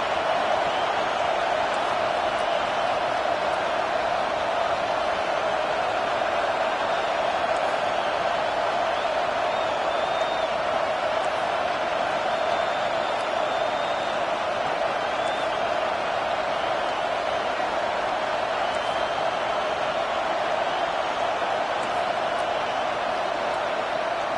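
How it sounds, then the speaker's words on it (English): Stadium crowd at a college football game with LSU playing, a loud, steady roar of cheering and noise sustained throughout as fans rally behind their defense. "It is getting loud as this crowd tries to help its defense."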